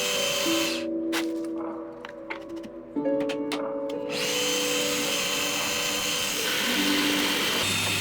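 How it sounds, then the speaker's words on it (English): A drill press with a brad point bit bores a mortise in a wooden leg, its motor humming steadily with a tonal whine while the bit cuts into the wood in short bursts. "using a brad point bit,"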